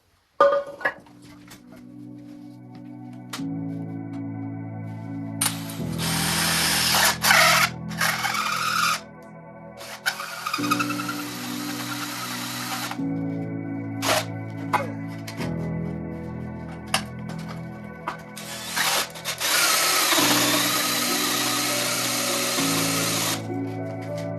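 A power drill bores a hole to fit a chin case while working on parts for a big block 550 engine, in repeated whirring runs of several seconds that rise in pitch under load, broken by short pauses and clicks.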